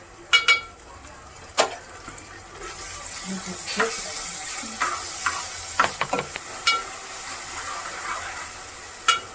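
Ginger garlic paste sizzles softly in a pan while cooking for pav bhaji, with sharp spoon scrapes and clinks of stirring scattered over the steady frying hiss, close up and without talking.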